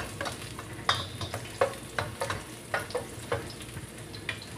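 Garlic fries in a pan for lumpiang hubad, giving a steady sizzle broken by a series of sharp scraping stirs at an uneven rhythm, close and fairly loud, with no talking.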